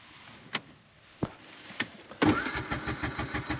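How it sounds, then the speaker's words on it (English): Tuk-tuk engine in the cold: a few separate clunks and knocks, then the small engine cranks and catches into a rough, pulsing idle, close by with no talk. "we got the tuk-tuk working"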